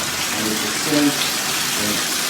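Water runs steadily from a bathroom sink faucet fitted with a gotonovo high-pressure shower combo system, making a continuous close hiss for the whole moment.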